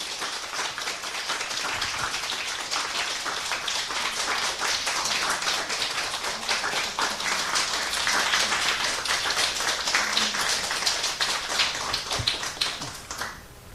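A church congregation claps to welcome a visiting missionary, giving dense, sustained applause for about thirteen seconds. The clapping holds a steady level, swells slightly near the middle and fades at the end, with no talk over it.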